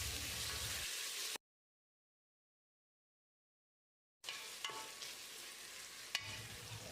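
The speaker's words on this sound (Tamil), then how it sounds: "தக்காளியை மசிகிற அளவுக்கு வதக்கிடலாம்" Quiet sizzling and scraping of chopped tomatoes and onions being stirred in a pan, broken by a few seconds of complete silence before the stirring resumes.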